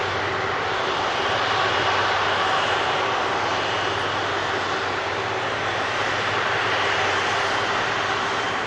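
An Air Tanker jet rolls past at Manchester Airport, its engines giving a loud, steady, close roar that holds unbroken for the whole stretch with no voices.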